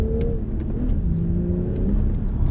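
A BMW M240i Coupé with a 3-litre straight-six engine drives along, its engine hum rising and falling steadily from inside the car, heard alone.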